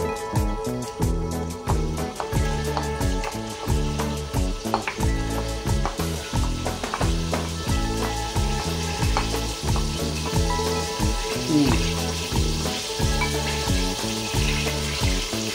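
Ground spice paste sautés in a pan for chicken opor, giving a loud, close sizzle with a strong, repeated pulsing rhythm, likely from stirring, that continues throughout without speech.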